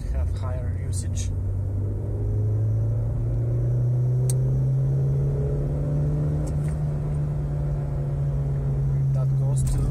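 Mazda 626 engine accelerating in second gear, a steady low drone that rises gradually in pitch as revs climb, loud and continuous throughout with cabin rumble.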